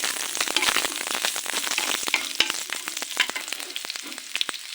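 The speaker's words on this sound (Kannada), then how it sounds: "4ರಿಂದ 5 ಎಸಳು ಬೆಳ್ಳುಳ್ಳಿ, ಶುಂಠಿ ಫ್ರೈ ಮಾಡ್ತಾ ಇದ್ದೀನಿ." Garlic cloves and ginger fry in a pan for a veg kurma, a steady close sizzle with frequent sharp crackles and pops throughout, no talking.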